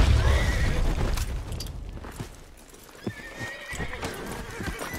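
A horse in Red Dead Redemption 2 clip-clops and whinnies loudly amid gameplay, with hoofbeats running throughout and a couple of sharp thumps partway through.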